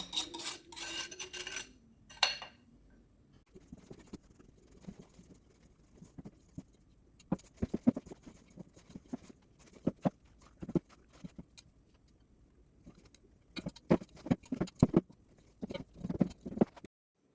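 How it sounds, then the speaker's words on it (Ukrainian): Soft, scattered clicks and sticky patting as pastry dough made with butter is mixed first with a spatula and then by hand, after a brief louder clatter at the start; close and quiet, no talking. "Спочатку буду замішувати лопаточкою, а потім руками."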